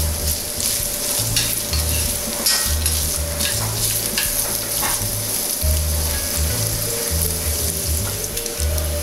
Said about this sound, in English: Okay, so the bacon has rendered off a lot of its fat.